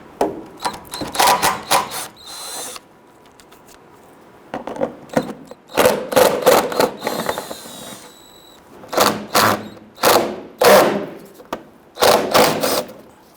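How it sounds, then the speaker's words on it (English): Repeated bursts of a ratchet or power tool working the 10mm bolts on a Toyota Tundra bumper, a dozen short mechanical whirring runs with brief pauses between them, close and clear. "You want to go ahead and loosen and remove these."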